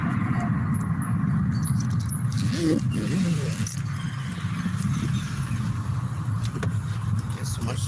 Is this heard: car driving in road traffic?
yes